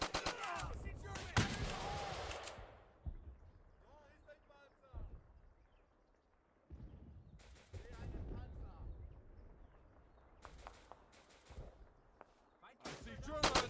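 Bursts of rifle and machine-gun fire in the WWII shooter Easy Red, loud sharp cracks in clusters with gaps between, mixed with shouted game voice callouts.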